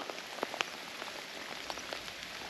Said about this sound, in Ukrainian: Прийшлась друга, друга злива.